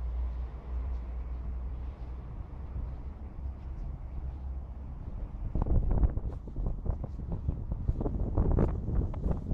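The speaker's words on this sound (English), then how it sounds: "It's too windy." Steady low rumbling wind buffeting the microphone, turning into stronger, gustier bursts in the second half. No voices.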